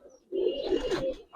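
Huma pigeons, a white breed at a pigeon farm, coo in a low rolling burst close by, one steady cooing phrase lasting about a second before a brief pause and another coo starting.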